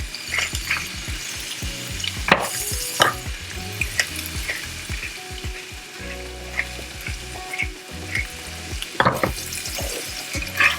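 Prawns fry with garlic powder, paprika, salt and pepper in a pan, a steady close sizzle broken by repeated scraping stirs and a few sharper clacks of the utensil against the pan, with no one talking.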